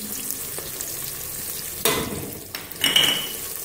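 Onion, dry coriander, ginger-garlic paste and spices sizzle in a pan for a mutton and bitter gourd curry, a close, steady frying hiss with a couple of louder stirring bursts and no talking.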